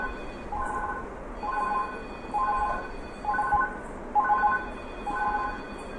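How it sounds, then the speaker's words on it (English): An indoor telephone rings in repeated short electronic trills, about six bursts roughly a second apart, steady and fairly close, interrupting a home-taped lecture with no talking over it. "So, we have a phone call, excuse me."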